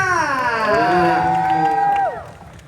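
A concert crowd at a summer show in Thailand cheers and applauds loudly, with high shrill screams rising and gliding over a dense roar of clapping, which drops off abruptly near the end.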